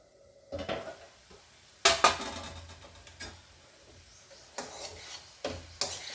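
A raw mango being cut into pieces for an amaranth and mango curry makes a run of sharp, irregular knocks and scraping clicks against a hard surface, fairly close and without speech.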